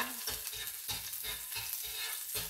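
Garlic sautéing in a hot pan, a continuous close sizzle and crackle with stirring scrapes in a loose, repeating rhythm.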